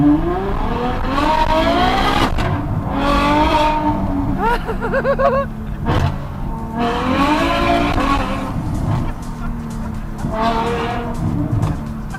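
A widebody Ferrari F12 with an F1-style exhaust and removed catalytic converters roars loudly and continuously as it accelerates, the engine note rising through the revs, dropping at a gear change and climbing again, with faint tire squeal.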